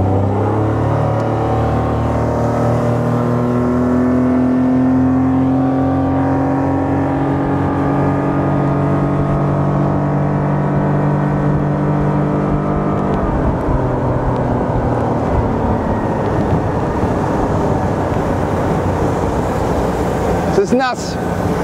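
The outboard motor on a home-built boat drones loud and close at full throttle, a steady high whine with rising and shifting tones over rushing water and wind.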